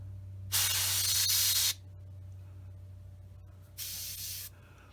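Single-action airbrush spraying paint onto a Tamiya 1/48 F4F-4 model, two short bursts of loud airy hiss, the first over a second long, the second shorter, separated by a quiet steady hum.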